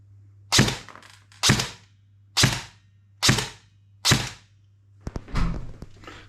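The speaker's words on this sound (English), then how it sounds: "So let's just throw a few rounds through the chrono." An ICS M4 airsoft DMR fires 0.4 gram BBs through a chronograph: five sharp single shots at a steady pace over a constant low hum, then a couple of quicker clacks at the end.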